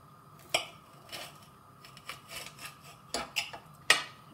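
A knife slices Normandy-grown chili peppers in half on a board, giving a handful of sharp, quiet chops and scrapes spaced irregularly against a calm, near-silent background.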